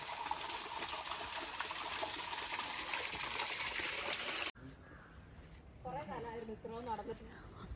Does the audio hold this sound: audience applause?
no